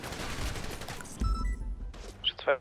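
A rapid burst of video game gunfire crackles, followed by a couple of sharp higher-pitched shots, all close and fairly loud.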